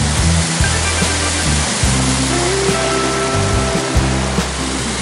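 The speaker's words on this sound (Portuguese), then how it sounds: "E agora vamos lá tomar um banho de cachoeira." Cachoeira do Angelim waterfall roars as a loud, constant rush of falling water, steady and close for the whole stretch with no voices.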